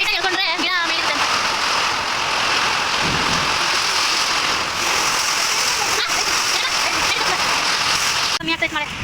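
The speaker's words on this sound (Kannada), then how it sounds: "ಮಳೆ ಆ ಥರ ಇದೆ ನೋಡಿ" Heavy rain pours down outdoors, a dense steady hiss with splashing that runs loud and unbroken the whole way, with brief voices near the start and end.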